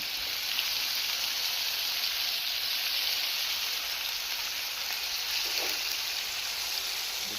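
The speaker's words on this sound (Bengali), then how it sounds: "তো পিস পিস করে কাটা চিকেনগুলো দিয়ে দিব দেখতে পাচ্ছেন ভালোভাবে ঢেলে নিচ্ছি" Chicken pieces sizzling as they are added to a hot pot for biryani, a steady, bright frying hiss that stays even and close throughout with no talking.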